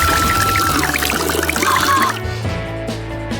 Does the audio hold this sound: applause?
no